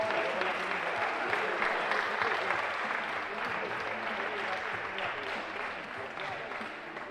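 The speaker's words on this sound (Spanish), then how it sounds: "Un aplauso muy grande para Vera." An audience claps steadily for several seconds at a difficulty climbing competition final, a dense wash of applause that slowly fades slightly toward the end.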